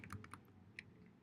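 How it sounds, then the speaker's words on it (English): Quick run of keystrokes on a computer keyboard as a command is entered, about half a dozen crisp, close taps in a short uneven burst, quiet and alone with no talking. "I'm typing in this command."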